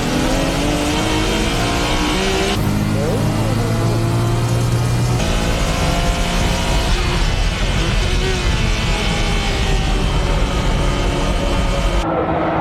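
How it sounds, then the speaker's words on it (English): Tuned Nissan Skyline GT-R race cars, the MCR and Mines GT-Rs, battle at Tsukuba circuit with loud, sustained engine roar and shifting revs throughout, while a commentator talks over the noise. "Kobayashi in the MCR GT-R and Orido in the Mines GT-R battling it out for top position."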